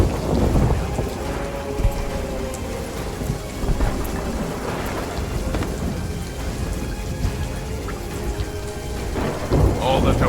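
Thunderstorm in the pirate game Sea of Thieves as lightning strikes a spire, deep rolling thunder rumbling over heavy, steady rain, loud and close throughout with no talk.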